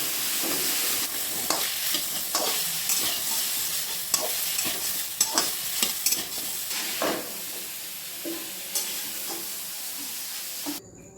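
Chicken sizzles in a wok with a little mustard oil, sticking slightly to the pan, while a spatula stirs and scrapes it in steady, repeated strokes, loud and close, with no talking over it.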